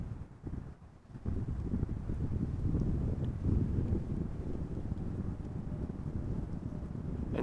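Steady outdoor wind buffets the microphone at an airport, a low rumbling roar that swells after the first second and holds loud and continuous with no voices.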